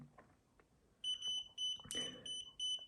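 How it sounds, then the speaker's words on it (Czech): A Sencor SCA BA50FC alcohol breath tester gives a series of short, high electronic beeps, four or five bright pulses in a quick, fairly even rhythm, loud and close against a quiet background. "A další pípnutí oznámilo, že přístroj analyzuje"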